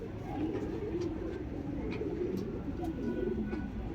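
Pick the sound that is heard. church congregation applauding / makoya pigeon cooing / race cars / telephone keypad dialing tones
makoya pigeon cooing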